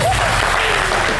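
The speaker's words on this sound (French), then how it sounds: "Eustache, que je vous demande d'applaudir aussi" A studio audience on a French-language TV entertainment show claps for a contestant named Eustache, a dense, loud wash of applause filling the whole moment without pause.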